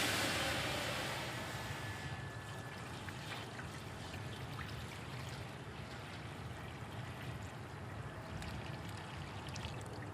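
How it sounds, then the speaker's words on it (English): Water pours into the water pan of a Weber Smokey Mountain Cooker smoker, a continuous splashing trickle that starts strongest and settles into a steady flow, with no one talking. "Now immediately you need to add water to the water pan"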